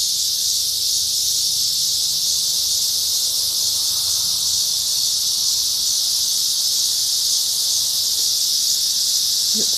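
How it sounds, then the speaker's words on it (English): Cicadas packed in a tree on a Missouri bike trail produce a loud, continuous high-pitched buzz that holds steady throughout, with faint low background sounds beneath. "Just listen to these cicadas."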